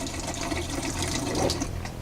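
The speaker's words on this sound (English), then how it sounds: "now we're just going to pour a little bit straight down the P-traps there, or down the sink drains to get into the P-traps" RV antifreeze poured down the kitchen sink drain of a Coachmen Catalina travel trailer, a steady close liquid gurgle and splash filling the P-trap, continuous and moderately loud with no talking.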